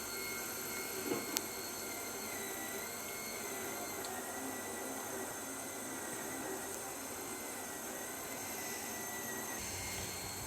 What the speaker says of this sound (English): just vacuuming going on in the background